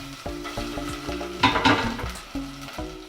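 Grated garlic cloves and grated ginger hit hot oil, giving a sharp sizzling burst in the middle, set against rhythmic, tonal stirring or scraping sounds nearby.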